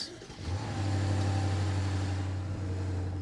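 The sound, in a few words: BMW M550i engine starting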